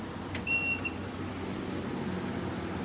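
An ultrasonic cleaner gives a single short electronic beep as it switches on, clear over a quiet steady room hum, then nothing further.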